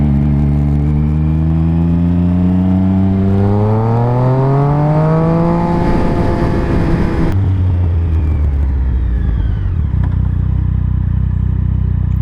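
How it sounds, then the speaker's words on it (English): A motorcycle with its exhaust baffle missing revs loudly and close, its engine note climbing steadily and then dropping back to a rough, low idle. "I don't really mind the baffle being gone. I think the bike sounds amazing. Still popping as much as it always was"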